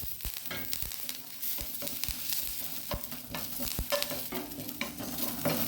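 Pepper, coriander seeds, cumin and curry leaves frying on a low flame for a coastal radish pulimunchi, a close busy crackle with frequent quick scrapes and clicks of stirring, no voices.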